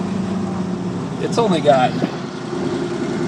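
The original motor of a 1949 Ford F-5 truck idles with a steady, low, even rumble, close by, while someone talks briefly over it.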